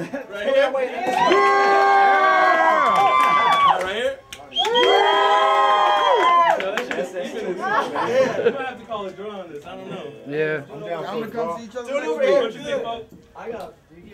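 A crowd at an emcee rap battle screams and cheers in two long loud bursts, then breaks into excited shouting and chatter that gradually thins out.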